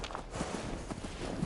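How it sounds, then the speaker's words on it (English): Heavy, clunky footsteps of Charlie, a creature in the video game Fallout 76, thudding like someone walking in power armor; several steady steps close by, with the game's ambience underneath. "Charlie kind of sounds like a dude walking in power armor"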